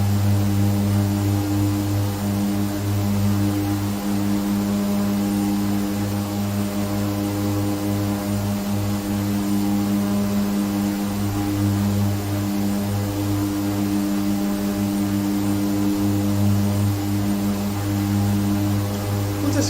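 Steady, loud drone of aircraft engines holding a constant tone while an airliner climbs out after takeoff from Pokhara Airport in Nepal; a continuous roar with no pauses, close and unbroken throughout.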